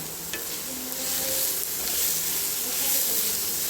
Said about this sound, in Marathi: आता हे भाजत आला आहे कांदा